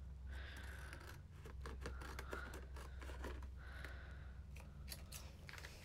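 Scissors cutting through paper, a rapid series of close crisp snips and rustles, repeated steadily over a low background hum.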